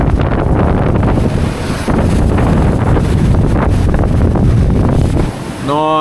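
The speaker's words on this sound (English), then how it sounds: "Nice, easy, tropical sailing." Sailboat under way in tropical waters off Fiji, with steady loud wind roaring across the microphone and water sloshing against the hull throughout, broken by a brief tonal creak near the end.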